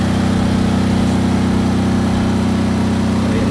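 Generator engine supplying power through an automatic transfer switch, running loud and close with a constant, steady droning hum and a low rumble, unchanging and with no voices.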